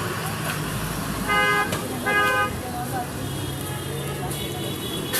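Road traffic rumbles along steadily while a car horn toots twice in short bursts, with another faint honk later over the hum.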